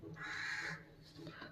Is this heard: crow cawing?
yes